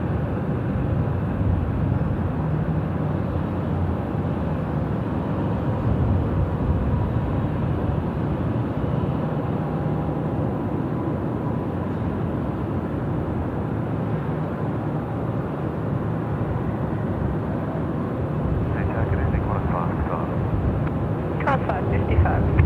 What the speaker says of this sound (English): 90964 Lima, cleared for takeoff, runway 34 left. It's going to roll, it's going to be heavy